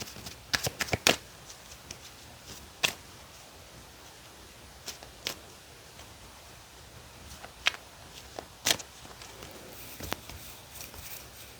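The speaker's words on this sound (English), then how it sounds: "Let me shuffle these." Oracle cards are shuffled and riffled up close, soft papery rustling punctuated by scattered sharp snaps and taps, with no voices.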